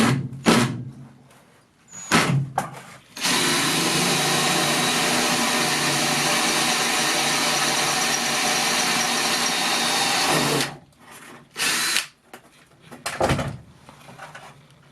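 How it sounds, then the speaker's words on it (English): A power drill whirs steadily for several seconds, pre-drilling holes in sheet metal of a van roof, bracketed by short bursts of drilling and clunks before and after. "drilling these holes, pre-drilling them and screwing them in."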